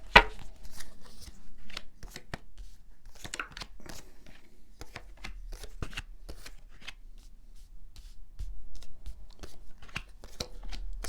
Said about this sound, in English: So I'm going to shuffle your cards.